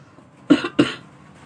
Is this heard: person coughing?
yes